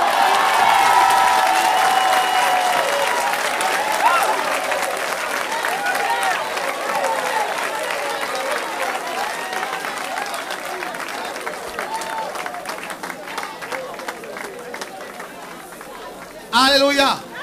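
A church congregation bursts into dense applause and cheering that gradually thins into scattered clapping and chatter, with voices calling out over it.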